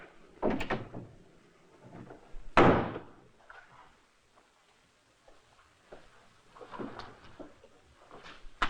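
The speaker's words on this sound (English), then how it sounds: "Now get out and close the door behind you." A door pushed shut in an indoor room in a 1960s television drama, giving one sharp, loud thud near the start of the clip with softer shuffling and movement before and after it.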